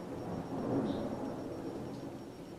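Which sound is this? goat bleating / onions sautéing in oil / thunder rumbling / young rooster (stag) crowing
thunder rumbling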